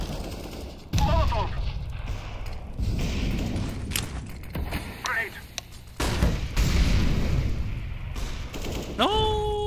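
Bursts of video game gunfire crack and rattle in short volleys, with people talking excitedly over the shots and a rising electronic tone near the end.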